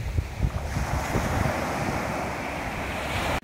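Sea waves wash onto the shore on a calm, windless day, a close, steady rushing surf with soft low thuds early on, heard alone without talk.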